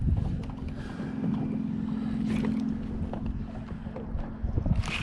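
A Versamax trolling motor runs on a boat fishing for redfish on Lake Pontchartrain, giving a steady low electric drone with a faint whine, under wind and water noise.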